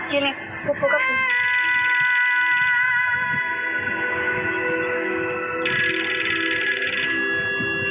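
A telephone ringtone chimes in repeated bright tonal bursts, starting after a brief clatter and continuing loudly to the end, with a second ring pattern layering in near the close.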